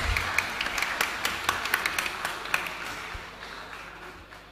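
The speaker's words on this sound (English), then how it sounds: "A round of applause." Audience applause at a secondary school graduation ceremony in Soufriere, St. Lucia, with scattered claps that rise and then gradually thin out and fade over several seconds.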